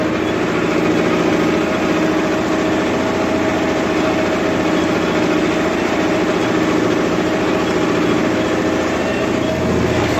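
A Kubota 5502 tractor engine runs steadily at fairly high revs while working soil in a field. The drone is loud, constant and close, with a rumbling texture and no speech.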